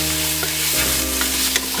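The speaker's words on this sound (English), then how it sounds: "Onions are sauteed with all the ingredients" Onions with spices sautéing in a pan for Moroccan cinnamon date chicken, a dense, continuous loud sizzle with a few soft stirring scrapes, close up and without talk.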